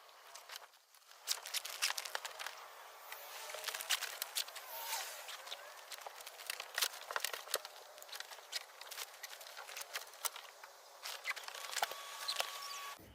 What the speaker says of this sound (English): I'm just going to zipper it all the way around